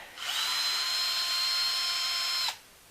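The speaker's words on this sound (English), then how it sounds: "just drill the nipple out" A power drill whirs at a steady high pitch for about two seconds, close and loud, drilling out a spoke nipple on a KTM 1190 Adventure R rear rim, then spins down and stops.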